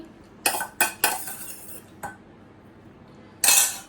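Rice and leftover fried potato are served onto a plate at home, with a few sharp close clinks and scrapes of a utensil against the dish, spaced irregularly over a quiet background.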